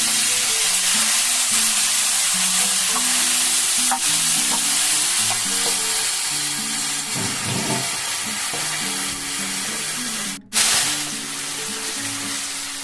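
Spice mix frying in oil for a catla fish and potato curry, a loud, steady sizzle close by with stirring scrapes and clinks, briefly cut off near the end before resuming.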